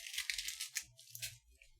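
Soft crinkly scraping and crunching as a mango skin is peeled by hand in a home kitchen, a few irregular close-up strokes, quiet and with no talking.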